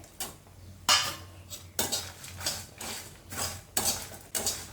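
Dried chillies tossed into a hot pan with the stove switched off, a metal spoon scraping and clinking against the pan in about eight bursts of stirring, close and fairly loud with no talking.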